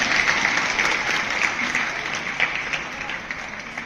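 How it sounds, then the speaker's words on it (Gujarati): A class of children claps together in a steady, dense round of applause filling a room, close and sustained throughout. "અને મારે નથી બોલવું માટે પણ તાળીઓ પાડો"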